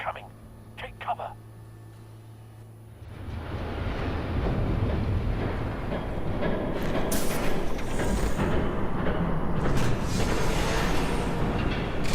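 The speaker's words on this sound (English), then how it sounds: "There's a train coming." A train approaches in Batman: The Telltale Series: after a few short beeps and a quiet stretch, a broad rumble swells in at around three seconds and keeps building, heavy and close, to the end.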